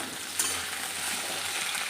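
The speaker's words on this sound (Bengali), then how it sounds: "এখানে আলুটা ভাজছে" Potatoes fry in a pan with a dense, even sizzle that carries on steadily and close, with one small knock early on.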